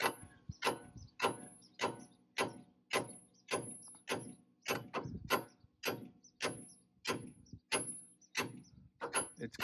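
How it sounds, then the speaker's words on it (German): A Mercedes-Benz Vario 4x4 kingpin is driven out with a socket in steady hammer blows, about a dozen sharp metallic strikes at an even rhythm, close and fairly quiet, with no talking. "Und da nimmt man auch eine passende Nuss und dann schlägt man hier."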